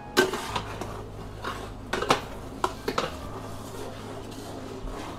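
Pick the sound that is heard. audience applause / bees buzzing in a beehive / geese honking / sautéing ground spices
sautéing ground spices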